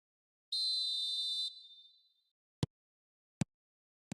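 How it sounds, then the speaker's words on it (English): Referee whistle in the football video game eFootball 2026, one sharp, clear blast of about a second that trails off, followed by three short, isolated thumps in near silence. "There's the whistle."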